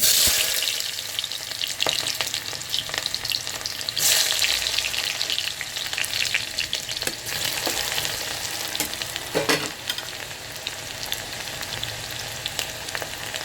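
Thinly sliced onions, two medium ones, sizzle and fry steadily in hot mustard oil for a haldi bhuna gosht, a continuous crackling hiss with occasional stirring scrapes, close and alone.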